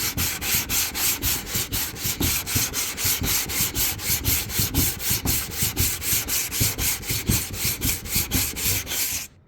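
Rhythmic back-and-forth rasping of an orbital sander with aggressive grit working IsoPon P38 body filler, steady strokes close up and loud, stopping at the end with no talk.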